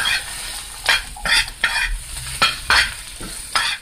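Minced garlic and Scotch bonnet pepper stirred into frying jumbo shrimp, a close sizzle broken by a series of rhythmic scraping stirs about every half second, with no talking.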